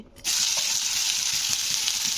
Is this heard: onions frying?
yes